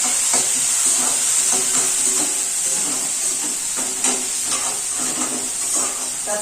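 Leftover chapati being sautéed in a pan in a home kitchen, with a steady close sizzle and hiss under frequent scraping stirs from a utensil, continuous throughout with no talking.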